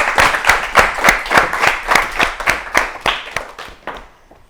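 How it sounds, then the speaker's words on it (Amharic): An audience at an Ethiopian children's TV quiz show claps in a loud, rhythmic unison beat, about three sharp claps per second, close and strong before thinning and fading toward the end. "አጨብጭቡላቸው በደንብ አድርጋችሁ"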